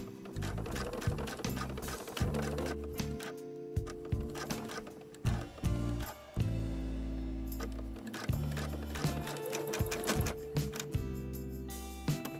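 A sewing machine stitches through tabs on a drawstring sling backpack, running in rapid mechanical runs broken by brief stops and restarts. It sounds close and busy, with no voices.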